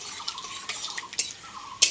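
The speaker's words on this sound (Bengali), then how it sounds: "ফোড়নটা একটু আমি খুব সুন্দর করে নাড়চাড় করে নিচ্ছি" Panch phoron and bay leaf are stirred in hot mustard oil, giving a few light clinks and scrapes of a spoon against the pan over a faint crackle.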